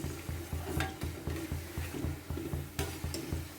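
Urad dal medu vada frying in oil over a low flame, giving a steady close bubbling sizzle with regular soft stirring taps, no voices.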